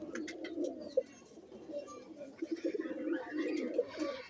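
Pigeons kept for breeding coo in a continuous low murmur, with brief louder calls standing out, while people talk nearby.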